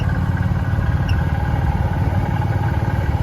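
A repowered antique tractor engine runs at the Half Century of Progress show in Rantoul, Illinois, with a close, steady, low chugging rumble and fast, even pulses.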